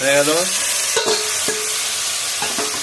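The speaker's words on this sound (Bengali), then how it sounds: "এবার চিকেনটা ঢেলে দিয়ে এইবারে আমি আবার ভাজা ভাজা করবো।" Chicken for chilli chicken is poured into a hot pan and fried, giving a loud, steady sizzling hiss close by with a few brief scraping stirs.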